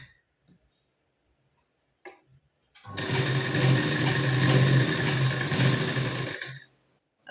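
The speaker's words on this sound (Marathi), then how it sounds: "तर बघा आता हा टक्स आपण जसा मार्किंग केलाय तसा आपण आता यावर शिलाई देऊन घेऊ आपण इथे" Sewing machine stitching a tuck on a blouse, a steady whirring run of about three and a half seconds, close and loud, with short mechanical clicks before and after in an otherwise quiet room.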